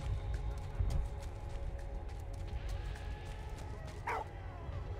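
Dog barking and yipping in the World War video game Valiant Hearts, short sharp barks over a background of rumbling game ambience and faint effects, with a brief whimpering yelp near the end.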